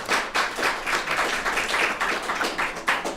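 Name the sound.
audience applause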